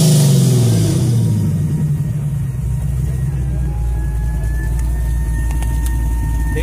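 Big block V8 car with exhaust cutouts at a church cruise-in, its engine rumbling loud and close with a deep low drone that holds steady after an initial rev.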